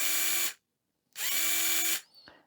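Yard Force cordless pruner with a bevel gear that will not turn, likely from a broken or stripped gear. Its motor gives two short, close, high-pitched whining runs with a pause between them, ending in a small mechanical click.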